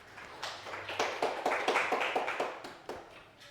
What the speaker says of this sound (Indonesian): Tepuk tangan untuk Mas Ansar.